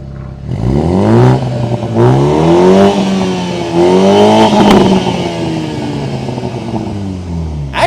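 A Toyota Supra with a 2-liter four-cylinder engine and a different exhaust revs up and down several times, loud and close, with some crackle and pops mixed in.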